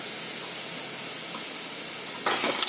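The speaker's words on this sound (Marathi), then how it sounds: "कमी गॅसवर हे असं भाजून घ्यायचं" Grated beetroot and carrot roasting in a pan over low gas, a soft steady hiss and faint sizzle, rising to a louder burst of spatula stirring and scraping near the end.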